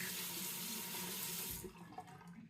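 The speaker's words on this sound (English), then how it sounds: "Let me wet the razor." Tap water runs steadily from a faucet to wet an Edwin Jagger DE89 double-edge razor, a loud even hiss that breaks up and turns splashy near the end as the flow is interrupted.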